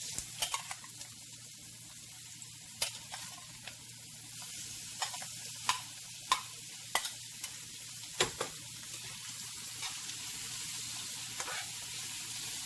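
Shrimp sizzling in a hot pan for curry, a soft continuous frying hiss broken by sharp crackles and stirring clatters spread unevenly over the whole stretch.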